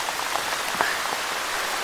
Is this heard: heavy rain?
yes